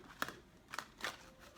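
A large, stiff new tarot deck is shuffled close by, giving three quiet, separate riffling rasps at uneven intervals against a faint room background, with no talking.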